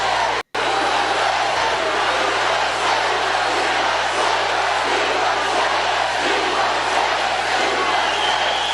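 A huge crowd of thousands at a Michigan political rally roars continuously, a dense, loud wall of cheering and yelling that barely varies throughout, with no clear speech above it.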